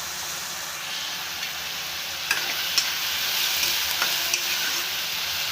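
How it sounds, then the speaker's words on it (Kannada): Tomatoes cook with salt and turmeric in a pan for a tender bitter gourd saaru. A steady, even sizzle hisses throughout, broken by a few soft taps of a stirring spoon. No one speaks. "ಟೊಮೆಟೊ ಸಾಫ್ಟ್ ಆಗಿ ಬೇಯಲು ಸ್ವಲ್ಪ ಉಪ್ಪನ್ನು ಹಾಕಿ"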